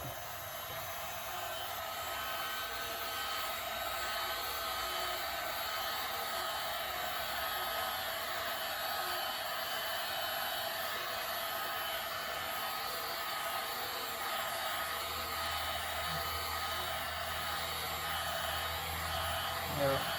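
A heat gun blows hot air steadily onto 8mm craft foam being softened for curling and shaping on a cosplay arm piece, a constant broadband whoosh that runs unbroken throughout.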